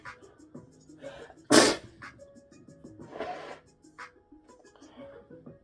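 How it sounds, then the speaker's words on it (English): One loud, sharp human sneeze bursts out near the microphone indoors, set among quieter sniffs, breaths and small rustling noises. "I feel a sneeze coming on"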